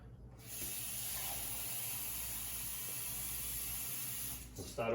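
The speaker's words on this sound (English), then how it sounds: "we're going to get a little more water in there." Water poured or run from a tap into a pot of homemade minestrone soup, a soft steady hissing splash, fairly quiet, ending with a brief clatter.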